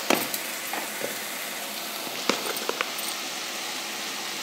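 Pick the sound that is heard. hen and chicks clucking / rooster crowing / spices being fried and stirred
spices being fried and stirred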